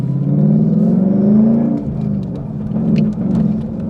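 A Ford Mustang with a straight-through exhaust drives off, its loud, deep engine note rising as it revs up, dipping, then climbing again close by with no talking.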